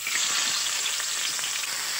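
Chicken pieces frying in hot oil in a pan for home-style chicken biryani, after potatoes were fried, giving a steady bright hiss of sizzling with faint crackles and a stir or two.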